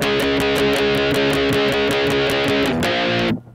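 Electric guitar strumming chords of a song in a fast, steady rhythm with a slightly gritty tone, close and loud, ending with an abrupt stop.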